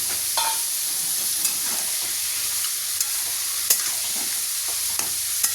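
Fish heads frying in a pan of oily bottle gourd, a steady close hiss of sizzling with occasional sharper pops and scraping stir sounds, no voices.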